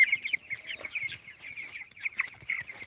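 Broiler chickens clucking continuously in a busy farm flock, many overlapping calls close by with no talking.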